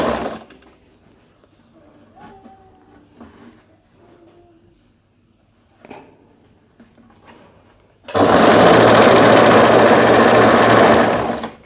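A sewing machine stitches a folded seam on a bolero jacket. A long quiet stretch with only faint handling sounds comes first, then the machine runs loud and close in one steady, continuous burst of several seconds.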